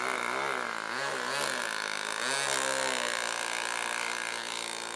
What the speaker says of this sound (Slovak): No teraz má kus mäkší zvuk ten motor